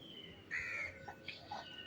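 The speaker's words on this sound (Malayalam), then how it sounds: "വേറെ ഒന്നല്ല കാക്കയാണ് കൊത്തിക്കൊണ്ട് പോകണേട്ടോ" Crows caw outdoors on a hot, sunny day by a road, several sharp, fairly close calls in a quick series: a longer harsh caw followed by three shorter ones, over faint background hiss.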